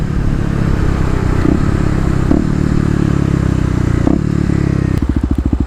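A Kawasaki KLX250 dirt bike pulls away from a traffic light and rides on, its engine droning loud and close under wind rush, ending in a choppy rhythmic pulsing as it slows.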